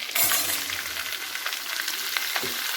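Ivy gourd (kankoda) frying in a pan with garlic and black pepper, a steady close sizzle with occasional stirring scrapes.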